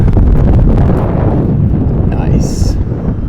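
Strong wind buffets a microphone on an exposed rock climb during trad lead climbing, a constant loud rumbling roar throughout with a brief faint metallic clink near the end.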